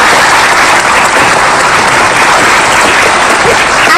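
Loud, dense studio audience applause on an Indonesian television talk show, continuous clapping at full strength throughout with no voices over it.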